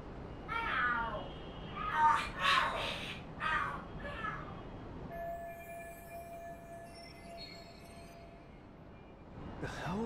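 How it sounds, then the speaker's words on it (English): Cats screeching and yowling in the Lost Judgment video game, with a few loud, overlapping wails in the first half, then quieter ambient game sound and a high steady tone. "Are there cats fighting?"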